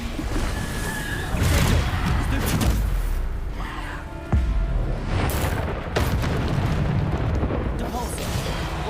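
In Hogwarts Legacy, the Bombarda blasting spell sets off booming explosions and crashing debris amid continuous loud combat noise, with a voice speaking over it.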